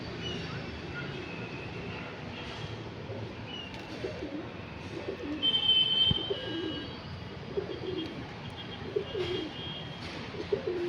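Pet pigeons at their coop before bathing, soft cooing and low bird murmurs close by over a steady background rumble, with a brief louder flutter near the middle.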